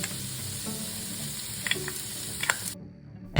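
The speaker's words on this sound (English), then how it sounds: "let's start by sauteing about 1 cup of chopped red onion in the same pot with oil" Chopped red onion and minced garlic sauté in oil in a pot, a steady close sizzle broken by a few sharp clinks and scrapes of stirring before it drops away quiet.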